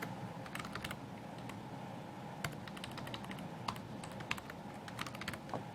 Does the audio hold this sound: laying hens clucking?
no